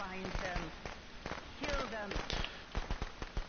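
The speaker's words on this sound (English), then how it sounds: "Oh, and I got hurt by the firecrackers anyway." Firecrackers pop in sharp, scattered bursts in the video game Friday the 13th, mixed with game sounds while a person talks over them.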